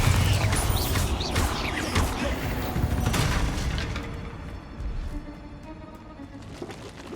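Bombarda spell in Hogwarts Legacy bursting with a loud, crashing explosion amid earlier spell-casting bursts, then a rumbling decay that thins toward quieter ambience.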